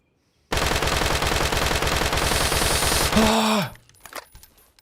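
A weapon in the Deadside video game fires in rapid automatic bursts, a loud, close, evenly paced stream of shots lasting about three seconds before cutting off into quieter background game noise.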